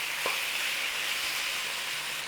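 Meat and onions cooking in a pan for a Mexican impossible pie, a loud, even sizzle and hiss that holds steady, with one short scrape of a utensil near the start.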